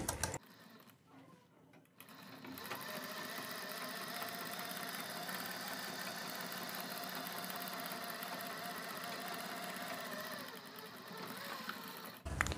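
A sewing machine stitches pintucks on fabric for a kurti collar, giving a steady, fast, even whirring hum that runs continuously after a brief start, close and fairly quiet.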